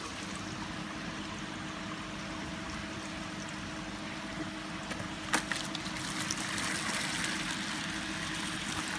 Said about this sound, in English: as the bucket starts to fill